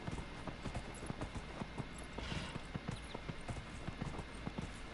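A horse's hooves clip-clop steadily in Dragon Age: Inquisition, a rapid, even rhythm of close, crisp hoofbeats with faint tack jingling throughout.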